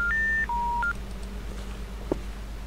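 Telephone keypad dialing in the video game Hello Neighbor: a short run of clear touch-tone beeps at changing pitches over a steady low hum, followed by a faint click.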